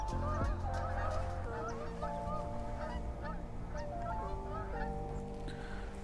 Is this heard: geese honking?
yes